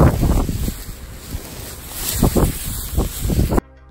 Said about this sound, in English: Then I realized it's way too windy to do this on my own.